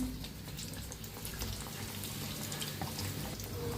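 Bread pakoda, batter-coated bread slices, fry in hot oil on a street-cart stall, giving a soft continuous crackle and bubbling with faint irregular pops, quiet and close, without speech.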